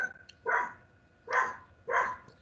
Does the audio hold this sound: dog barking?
yes